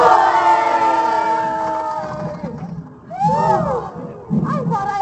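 A crowd at a theme park yelling together in unison, a loud, close group shout that rings out, then two shorter bursts of cheering, with a voice leading them.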